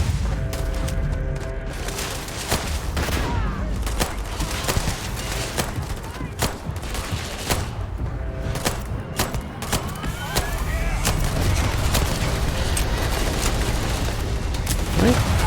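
Weapon fire in Starfield, a sci-fi video game, as dense sustained volleys of shots and booms running steadily throughout at high loudness with some talk underneath.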